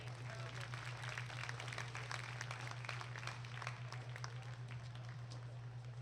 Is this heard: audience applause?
yes